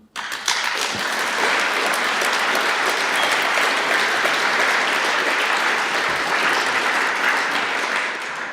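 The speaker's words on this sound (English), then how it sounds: "while you're applauding" Audience applause at a conference closing session, a dense, steady wash of clapping from a large crowd that holds at full strength throughout without pause.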